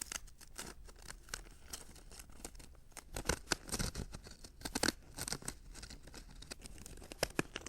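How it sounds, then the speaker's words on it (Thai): Zigzag pinking scissors trim the overlapping edge of wrapping paper around a cylindrical object, giving a steady run of crisp snips and paper rustles at close range, with no talking. "เพื่อความสวยงามเนี่ย ให้ใช้กรรไกรซิกแซก"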